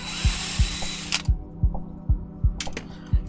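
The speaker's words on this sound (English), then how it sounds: "not to talk while drilling because I know that the drill overcomes the microphone, or overcomes my voice." A power drill bites in short repeated bursts while a mechanical piano keyboard is torn down on a workbench, roughly seven sharp whirring pulses spaced evenly, loud and close.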